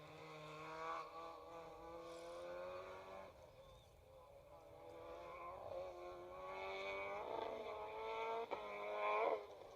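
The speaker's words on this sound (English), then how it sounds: "Here the traction control working hard on that escort." A Ford Escort rally car races along a forest stage on the Western Isles, its engine note rising and falling through gear changes and revs, climbing toward the end against a distant outdoor background.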